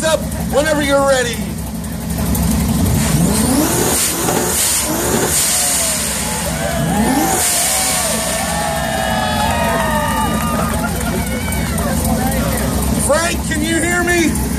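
Loud car exhausts revving hard at a car show's loudest-exhaust contest, with repeated throttle blips and sustained roars close by, crowd noise and someone speaking over a PA between revs.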